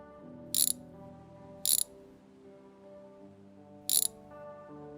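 A wrench ratchets on car bolts inside the My Garage video game, giving three short, crisp bursts of clicking over a low humming background.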